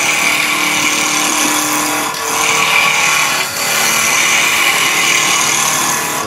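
A bowl gouge cutting wood on a lathe while turning a Christmas pyramid: a loud, steady whirring drone of the spinning lathe with a sustained rasping cut, briefly easing twice.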